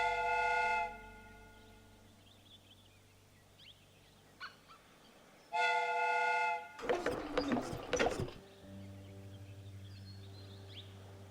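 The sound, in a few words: steam whistle of replica train in Sherlock Holmes video game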